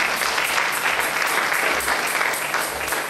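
A church congregation at an evangelical service applauds and cheers the Lord, a dense, steady wash of many hands clapping filling the room, loud and sustained throughout.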